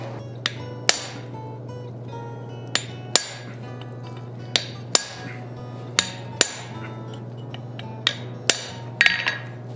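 A forged steel vulture head is hammered on an anvil, sharp ringing metallic strikes landing about a dozen times at irregular spacing over a steady low hum, close and clear with no talk.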